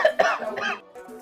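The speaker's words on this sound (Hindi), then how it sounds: "खासो।" An old man in a comedy skit gives a couple of harsh, close coughs in quick succession, ending with a softer raspy breath.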